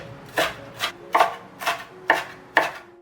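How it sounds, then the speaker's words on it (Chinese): A knife chops dried shallots steadily on a board, about seven crisp evenly spaced strokes, close and clear with no talking. "接下来把干葱头切碎，切片后再稍微剁碎一下"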